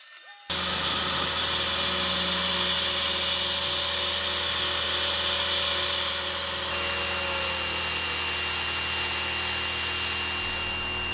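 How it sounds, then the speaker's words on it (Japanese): An end mill roughing metal on a machine with mist coolant and an air blast clearing chips, a loud steady high whine and hiss starting abruptly after a brief silence, with tonal hum from the spindle and no talk. "エアーズで切り子が吹っ飛んでいってるので、快適にエンドミルが働けている"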